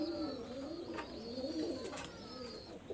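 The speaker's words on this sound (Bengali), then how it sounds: "এটা হলো একটা কামাগার কবুতর বেবি" A young Kamagar pigeon coos softly in a repeating, rolling pattern. It sounds close but quiet, with a few faint chirps behind it.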